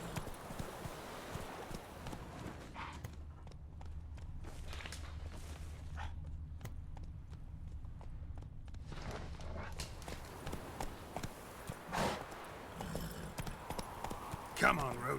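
Geralt's horse Roach trots in The Witcher 3, steady rhythmic hoof clip-clops close by, with a voice speaking over parts of the game audio.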